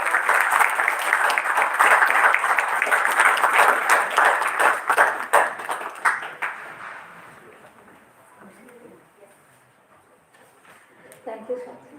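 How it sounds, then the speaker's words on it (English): Applause from an audience at a pharmacy college event, loud and dense at first, then thinning into scattered claps and fading to near quiet, with faint murmuring near the end. "Let's welcome her with a huge round of applause."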